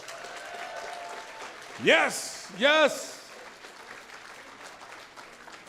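Audience applause at a gala auction, a steady patter of clapping throughout while a person speaks two short loud exclamations over it.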